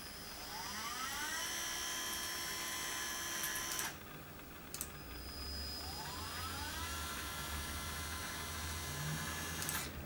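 Electric motor run by a Gertbot controller board ramping up in pitch over a couple of seconds, whining steadily, cutting off abruptly, then ramping up again, fairly close.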